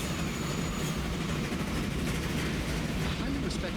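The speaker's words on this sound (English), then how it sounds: "There goes our other train in the distance." A train in the Transport Fever game rumbles by in the distance, a soft, steady rolling clatter with faint rhythmic clicks under low background sound.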